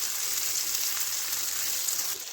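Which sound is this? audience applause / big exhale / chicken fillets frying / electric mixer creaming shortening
chicken fillets frying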